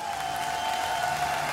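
A home crowd in Trenčín applauds at a PML fight event, giving a dense, steady wash of clapping throughout, with a faint sustained tone underneath and no clear speech.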